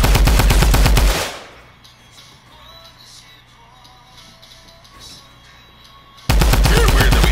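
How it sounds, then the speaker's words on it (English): Gunfire from a Fortnite shootout: a loud burst of rapid shots at the start, then a long quiet stretch with faint distant pops, before a second loud burst of rapid fire at the end. "I like how we're just watching the shootout"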